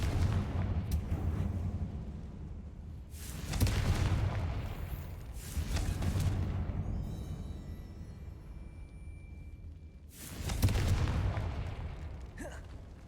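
Confringo blast spell explosions in a video game, heard as three or four deep, rumbling booms spaced a few seconds apart, each swelling and fading over a low background, with no talking.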